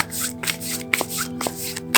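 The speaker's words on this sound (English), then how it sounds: "this deck is very easy to shuffle" Tarot cards riffle and flutter in quick repeated bursts, close and crisp, with a few sharp slaps as the deck is squared between shuffles.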